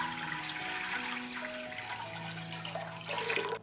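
Tap water, about one and a half litres, running steadily into a cooking pot for a brine marinade, a continuous close splashing pour whose pitch rises as the pot fills.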